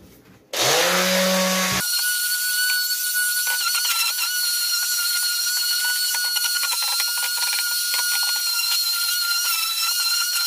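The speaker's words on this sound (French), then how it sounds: "c'est parti pour un petit coup de ponçage" A power sander works over a wooden French cleat: a brief rising spin-up, then a steady, loud, even whine with a sustained tone that holds unbroken to the end, with no voices.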